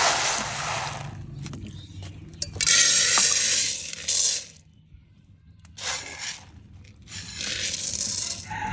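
Chickpeas being dry-roasted and stirred in a kadhai for panjiri, giving bursts of dry rattling and scraping that come and go, with brief quiet gaps between stirring spells.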